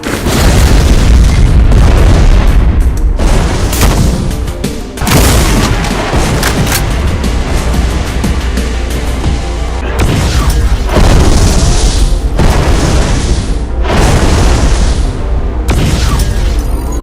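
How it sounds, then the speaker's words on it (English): Heavy, booming bomb blasts from a Mastermind enemy in a modded DooM game, loud and continuous, with repeated explosive bursts and thuds stacking over a dense roar for the whole stretch, with no voices. "Can charge up and fire hit scan-like bombs that directly hit and explode on the end of the line of fire."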